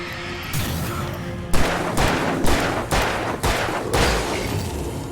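Gunfire in the video game Alan Wake, a run of loud, sharp shots at roughly half-second intervals, each cracking hard over a dense rumbling backdrop.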